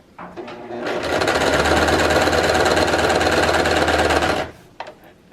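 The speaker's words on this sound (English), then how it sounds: "I'm going to sew to the middle and then kind of turn a little and sew the rest of the way." Sewing machine running steadily for about three and a half seconds while stitching a fabric face mask, a loud continuous mechanical whir that starts and stops abruptly.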